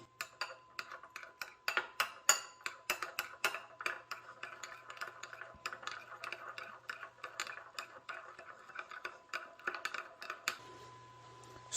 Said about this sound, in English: And now we are going to mix everything till sugar is dissolved.